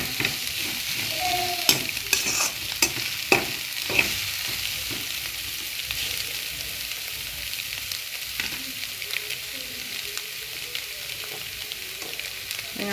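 Kottu being stirred and fried in a pan at home, Sri Lankan style: a steady sizzle throughout with several sharp scraping clacks of the utensil against the pan early on, then continuous frying with lighter stirring.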